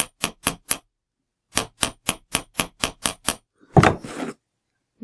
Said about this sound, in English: I'll take my hammer now and lock it in place.